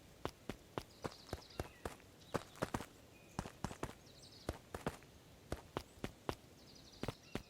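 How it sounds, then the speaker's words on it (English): Footsteps in the video game Beacon Pines approach as a group, a steady run of sharp, evenly spaced treads close and alone, with no talking. "Luca heard a group of footsteps approaching."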